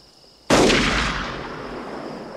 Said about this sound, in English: What the hell's the kid shooting at us for?